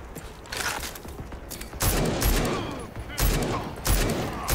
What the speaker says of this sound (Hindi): भाई सर पे गोली मार रहा हूँ यार